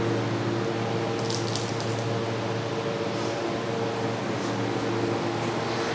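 Carbonated water bubbling and gushing from a non-electric soda machine at a roadside stall, a loud continuous fizzing hiss close up over a steady hum, with no pauses.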